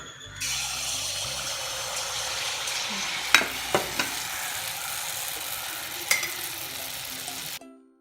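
Wheat and palm jaggery paniyaram batter hisses and sizzles steadily in a hot paniyaram pan, with a few sharp clinks of a utensil partway through.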